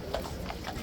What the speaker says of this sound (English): Police horses again